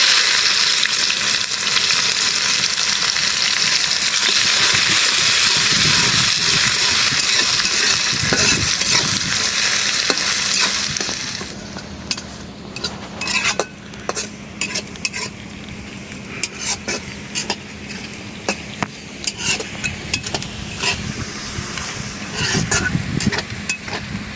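Garlic and onion fry in a pan after chillies, starting with a loud, dense sizzle that softens partway through, then repeated sharp scrapes and clinks of a spatula stirring, with a faint voice now and then.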